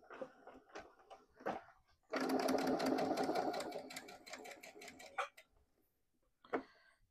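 A sewing machine stitches a wallet seam, running in a steady rapid buzz for about three seconds between softer clicks and handling noises, close and clear with no speech.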